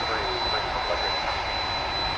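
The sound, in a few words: jet aircraft at DFW Airport, DHL cargo flight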